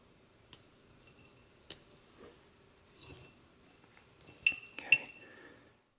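Small parts of a Lucas AB14 ignition amplifier from an '83 Jaguar XJ6 are plugged back in, making sparse, close clicks and light metallic clinks, with a couple of sharper snaps near the end.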